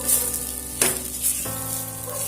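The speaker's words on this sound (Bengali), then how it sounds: "লো ফ্লেমে 2 মিনিট নাড়াচাড়া করে নেওয়ার পর পুর কিন্তু তৈরি হয়ে গেছে।" Cauliflower paratha filling frying on a low flame in a village kitchen, a steady close sizzle broken by a few brief scraping stirs, with no talking.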